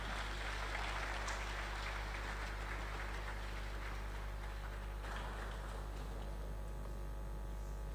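An audience in a great hall at a youth event applauds, a soft, even wash of clapping heard from a distance and fairly faint, continuing steadily for several seconds over a low hum.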